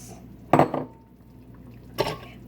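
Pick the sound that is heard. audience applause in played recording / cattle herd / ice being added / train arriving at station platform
ice being added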